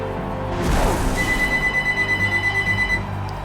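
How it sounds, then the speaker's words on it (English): A phone rings indoors, a pulsing electronic trill with a steady tone repeating for a couple of seconds after a louder thump, with no one speaking. "Sorry about the phone ringing."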